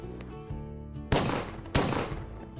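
Two sharp, loud gunshots crack outdoors about half a second apart, each followed by a short ringing decay, with a low rumble and faint murmur beneath.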